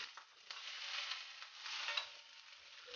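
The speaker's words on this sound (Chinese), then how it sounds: "先把虾头放进去炒香" Shrimp heads sizzle and crackle in olive oil in a hot pan, a soft steady frying hiss with occasional stirring scrapes, close and fairly quiet.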